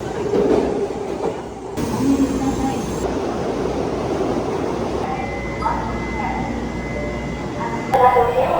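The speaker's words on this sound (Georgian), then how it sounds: "ეხლა ვართ ეგრეთ წოდებულ ვაგზალზე, საიდანაც გადიან მატარებლები, ველოდებით ჩვენს მატარებელს" A train at a railway station in Japan, rumbling and clattering steadily up close while people talk nearby.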